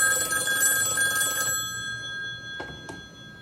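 Incoming call on a new phone, a loud electronic ringtone trilling for about a second and a half before cutting off, followed by two faint clicks in a quiet room.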